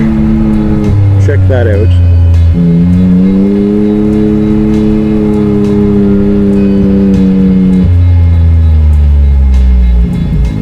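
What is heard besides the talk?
Can-Am Maverick X3 UTV engine riding on trail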